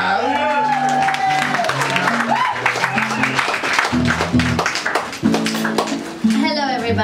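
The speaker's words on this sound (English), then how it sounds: "please make some noise for Erica Fabri and Robin Andre. Make some noise, y'all!" An audience at a New York spoken word poetry anniversary show claps and cheers for performers, a steady wash of applause with occasional shouts under loud background music that runs throughout.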